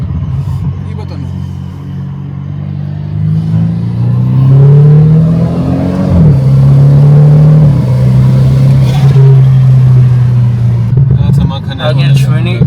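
An old jeep bought at an American car auction drives along with its engine humming and rising in pitch as it revs and pulls away, close and loud, with people talking over it.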